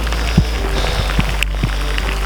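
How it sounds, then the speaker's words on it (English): Rain falling during a mountain hike on Mount Keogan near Okanagan Falls, British Columbia, a loud steady patter with a few sharp drop hits, close and continuous, with no voices. "Okay, well, we're getting rained on."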